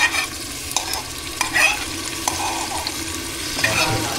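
Tomato puree and browned onions fry in a pan for egg biryani, with a low sizzle under intermittent scraping stirs of a spoon, close and moderately loud, no talking.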